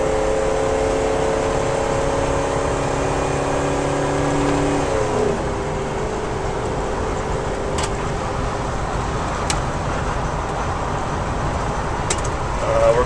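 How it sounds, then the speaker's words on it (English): A 1992 Ford Falcon 190 engine climbs in pitch as it accelerates to pass a car, then eases into a steady, moderately loud cruising drone with road and wind roar inside the cabin. "we're going to pass this car really fast"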